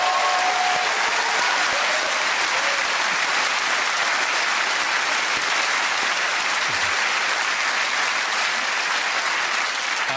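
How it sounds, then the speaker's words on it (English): Steady, dense applause from a large studio audience at a comedy quiz show's celebration taping, loud and sustained throughout with no speech over it. "So a big round of applause for Sandy"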